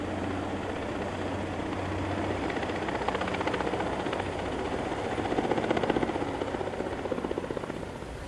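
A helicopter drones steadily with a rapid rotor chop and broad engine roar, sustained and fairly loud throughout, swelling slightly toward the end.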